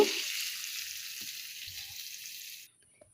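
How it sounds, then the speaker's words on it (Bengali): Potatoes, lightly salted, fry in a pan with a steady broadband sizzle that runs for about two and a half seconds and then cuts off abruptly. A few faint low knocks sit under it. "আলুগুলোকে একটু ভালো করে ভেজে নিতে হবে"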